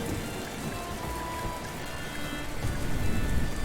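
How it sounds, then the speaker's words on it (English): Heavy rain pours steadily in a video game, a dense continuous hiss that swells slightly louder toward the end, with no talk over it. "Ooh, it is raining hard again."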